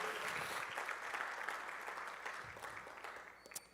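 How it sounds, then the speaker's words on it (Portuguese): A church congregation applauding after a prayer, a soft, distant wash of clapping that slowly fades toward the end, faint and without talk over it. "aplauda ao Senhor"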